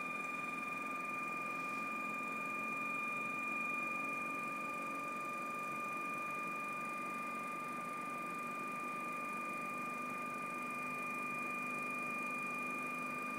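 A MetOne E-Sampler air sampler runs its flow calibration, a steady, quiet motor hum with a constant high whine that holds unchanged throughout.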